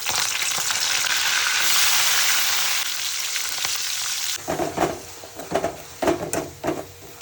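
Potato palya sizzles and fries steadily in a pan for several seconds, then the hiss gives way to a series of stirring knocks and scrapes.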